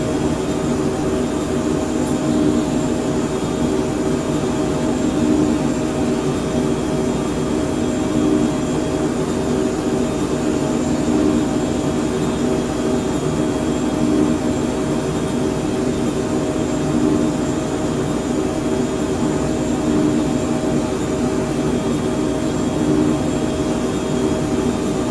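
Phenom 100 business jet engines in Microsoft Flight Simulator drone in a steady, loud, unbroken whine and roar throughout cruise, with no voices over it.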